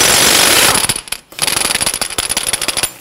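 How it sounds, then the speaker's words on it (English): Rapid metallic rattling bursts from an impact wrench loosening the front axle nut with a 30mm socket on a 1992-1996 Toyota Camry, loud and close, with a brief pause midway before the hammering resumes. "Using a 30mm socket, we're going to go ahead and loosen and remove the axle nut."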